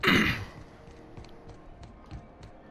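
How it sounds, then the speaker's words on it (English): A person clears their throat once, a loud close rasp at the very start, followed by faint tapping and quiet room noise. "Sorry, I keep clearing my throat."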